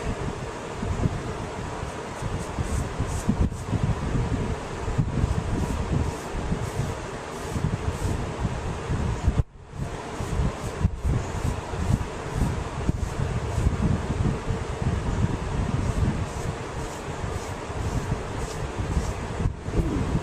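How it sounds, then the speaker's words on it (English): Steady whooshing roar of a fan running constantly in a woodworking workshop, broadband and fairly loud throughout, with a couple of brief dips and faint clicks, no talking. "I have a fan on all the time."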